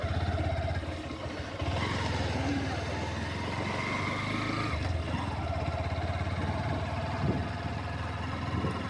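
Honda Hornet 2.0 motorcycle riding across beach sand, its engine giving a steady, fairly loud hum and drone throughout with a brief dip in the middle, under faint background noise and occasional voices.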